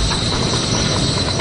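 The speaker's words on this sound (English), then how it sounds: "now the train, the whole train, is floating in midair 10 millimeters above the track" Maglev train gliding along its magnetic test track, heard as a steady, loud, even rushing rumble that holds unchanged throughout, with no voices.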